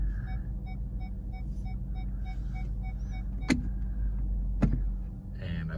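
A 2014 Audi S7 backs slowly into a parking spot, its low steady engine hum running throughout, with a faint repeating chime and two sharp clicks or taps near the end.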